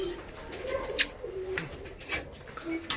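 Soft, low coos of black Malwai pigeons repeat at intervals over a quiet background, broken by a few brief sharp chirps and faint rustling.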